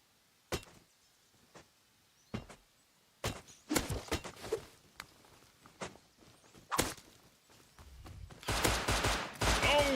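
A gun fires in the video game Satisfactory in sharp, irregular cracks spread across the moment, then turns into a louder, denser burst of shots at the end, with no talk over it.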